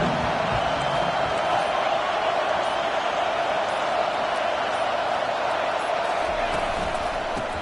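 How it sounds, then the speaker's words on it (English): A stadium crowd at a college football game between FSU and Alabama keeps up a continuous, loud, wash-like roar that stays steady from start to finish, with no breaks. "This crowd bringing an ear-splitting welcome to their visitors."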